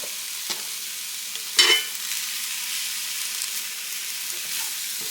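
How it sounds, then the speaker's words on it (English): Pre-packaged coleslaw mix cooking down in a hot pan, a steady soft sizzle with one sharp utensil scrape as it is stirred, close and alone. "You want to keep stirring this around. You don't want it to burn. But you want that coleslaw mix to cook down."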